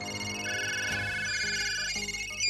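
Telephone ringing in a Miraculous Ladybug cartoon, with steady tonal ring bursts over background music through the short stretch, no voices heard.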